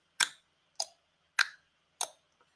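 A person makes four evenly spaced tongue clicks, sharp and close, imitating the tick of a clock, with silence between each click and no talking.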